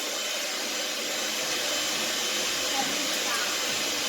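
Electric mixer whirring steadily while mixing Italian Easter cookie dough, a continuous broadband hum and hiss that stays even and close throughout.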